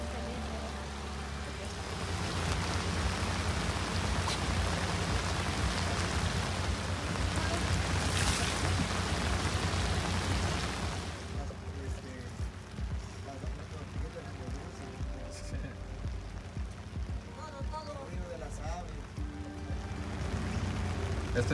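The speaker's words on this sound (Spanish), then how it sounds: "La lluvia nos sorprendió en el recorrido" Steady rain patters over a broad hiss during a boat tour of the Mandinga lagoon near Veracruz, with faint distant voices now and then and a slight drop in intensity partway through.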